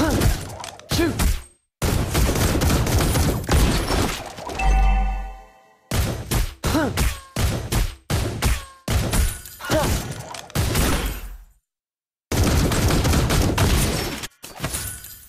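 Granger firing his guns in Mobile Legends, with dense, rapid bursts of shots and impacts broken by short silences and a brief pause near the end.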